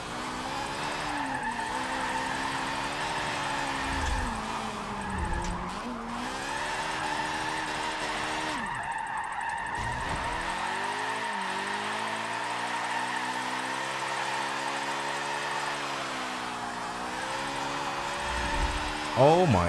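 A rotary-swapped car drifts in Forza 7, its engine revving high and holding a steady, buzzing drone, with brief dips and surges in pitch as the car slides through corners, plus some tire noise.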